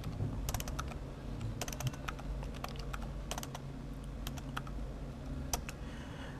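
Typing an ifconfig command on a computer keyboard, scattered light key clicks in short bursts over a steady low hum, faint and close, with no talking.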